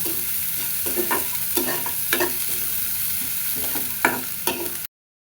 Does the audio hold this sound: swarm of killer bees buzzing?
no